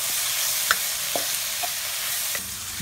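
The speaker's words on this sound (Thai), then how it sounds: "ใส่ลงไปคั่วตอนนี้เลยครับ มันจะยิ่งหอมครับ" Curry powder stir-roasted in a pan over low heat for Japanese curry udon: a soft continuous dry sizzle with a few scattered scrapes and taps of a spatula against the pan.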